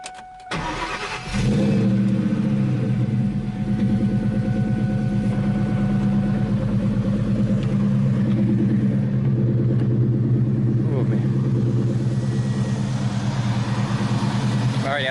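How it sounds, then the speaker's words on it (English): A 2001 Ford Mustang Bullitt cranks and fires up after a short quiet moment, then settles into a loud, steady rumbling idle with slight revving that fills the rest of the clip, close by. "I'm not sure how well you guys can hear me over the loudness of this engine, but man, she purrs."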